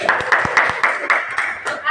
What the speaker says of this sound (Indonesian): Sekarang tepuk tangan dulu buat kelompok.